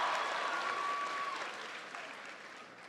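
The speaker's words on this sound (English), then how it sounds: "Please give him a big round of applause." A large crowd applauds the mayor of Memphis at a high school commencement ceremony, a steady wash of clapping that fades slightly toward the end, heard from a distance.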